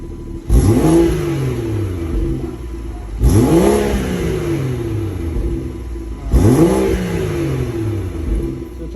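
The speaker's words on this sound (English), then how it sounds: "OEM 340i muffler" A 2018 BMW 340i with its stock OEM muffler revs three times in succession, each blip rising sharply then settling back to a steady idle, loud and close with no talking.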